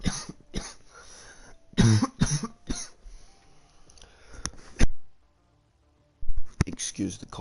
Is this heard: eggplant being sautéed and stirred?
no